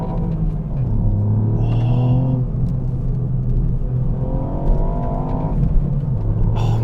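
A Mountune m235 tuned Ford Fiesta ST Mk8 with an upgraded exhaust thrums along, its three-cylinder engine giving a steady, offbeat droning rumble from inside the cabin, with slight rises in pitch as it pulls.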